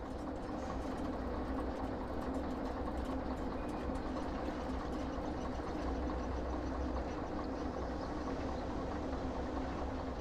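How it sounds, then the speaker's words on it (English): Train engines rumble steadily in a train-driving video game, a continuous low idling drone with a hum that holds loud and even throughout, no voices. "Especially with the engines running constantly, it can get a little irritating."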